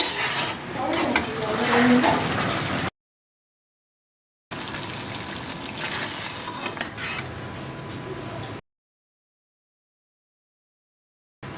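Green grape gojju with ground masala bubbles and simmers in a pot, a close, steady burbling with soft stirring clinks, broken by stretches of silence.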